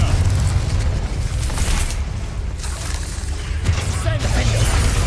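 Fire spells Incendio and Confringo bursting in the Hogwarts Legacy video game, a dense continuous roar of blasts and crackling with heavy low rumble, loud and sustained, with a voice shouting over it.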